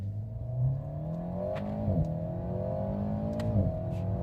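An Alpine A110 engine accelerates in sport mode, its tone climbing steadily through the revs with a couple of quick dual-clutch upshifts, heard from inside the car as a close, moderate hum.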